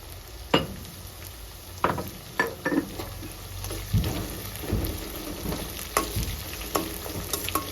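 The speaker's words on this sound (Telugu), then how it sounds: "తొందర తొందరగా ఫ్రై అవుతాయి ప్రతి ఒక్కటి" Chopped onions and curry leaves fry in a pan with a steady sizzle, broken by scattered clicks and scrapes of stirring, fairly close and with no talk.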